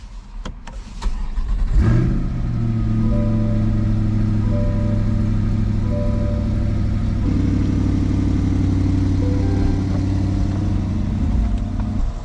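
Stock-exhaust 2021 Chevrolet Corvette C8 cranking briefly, then firing with a loud rev flare before settling into a steady, rumbling idle that holds close and even, with a slight change in pitch partway through, no voices.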